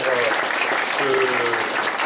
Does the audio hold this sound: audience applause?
yes